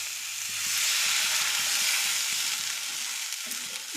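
Water hits a hot pan of fried papad pieces while a curry is cooked, setting off a loud, continuous sizzle that rises and holds, with faint stirring clatter beneath and no talking.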